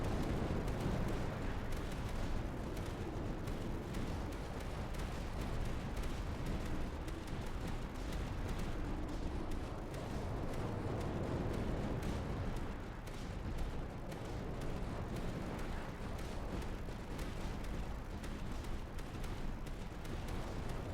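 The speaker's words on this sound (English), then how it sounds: "I guess those are Reaper cannons, right?" Reaper cannons fire in the tower defense game Tower Dominion as dense, rapid booming bursts over a continuous rumbling din. The sound is quiet overall and unbroken, with no voices.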